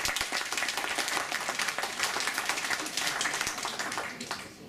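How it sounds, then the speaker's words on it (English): An audience at a museum exhibition opening gives a round of applause, dense clapping that stays steady for several seconds and then begins to thin out near the end. "I'd like a round of applause, please."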